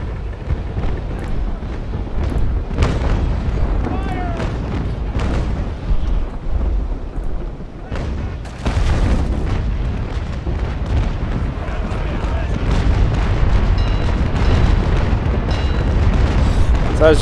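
Cannon fire in the naval combat game Naval Action comes as heavy, low booms and rumbling blasts under continuous ship and ocean ambience. Several louder bursts stand out over a steady, dense low-frequency bed.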